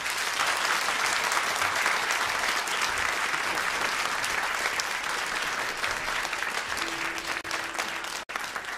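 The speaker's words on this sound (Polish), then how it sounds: "teraz możemy sprawdzić, jak mocno państwo biją brawa" A large audience claps vigorously and continuously at a concert by a Polish sentimental orchestra playing prewar revue and cabaret melodies, dense sustained applause that carries on without a break, with a faint tone near the end.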